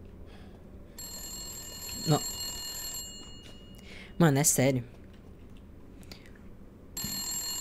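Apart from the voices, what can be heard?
telephone ringing in Resident Evil Village video game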